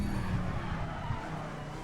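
Tires of a 1999 Dodge Viper GTS-R GT1 race car slide on the Nordschleife in a racing game, a steady skidding hiss under a constant low engine drone, with no voices.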